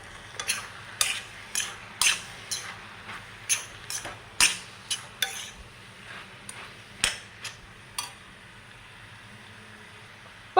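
A spoon stirring spinach and egg thoran in a pan, giving a steady run of sharp metallic scrapes and clinks at an uneven rhythm over a faint sizzle, close and fairly quiet, without talking.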